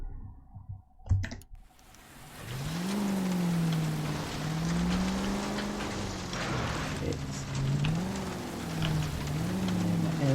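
Rain in the video game L.A. Noire hisses as a steady, soft wash of falling water, joined by a wavering engine-like drone and a few sharp clicks near the start.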